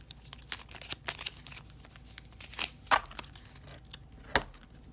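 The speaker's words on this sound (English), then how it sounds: "My next card, let's shuffle this a little bit." Tarot cards shuffled by hand, a quiet scatter of papery riffles and crinkly slaps with a few sharper snaps, irregular and close, with no talking.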